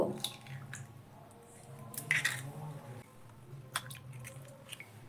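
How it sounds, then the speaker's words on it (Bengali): Two eggs are cracked into a bowl in a home kitchen, giving a couple of sharp close cracks followed by soft wet squishes and drips against quiet background hum. "এবার একটা বাটি নিয়ে নিয়েছি, তারপরে এই বাটির মধ্যেই আমি দুটো ডিম ফাটিয়ে নিয়ে নিব।"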